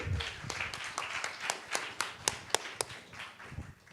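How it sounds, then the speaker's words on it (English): A small audience claps for a few seconds, scattered, moderately faint hand claps with some sharper individual claps standing out. "Round of applause."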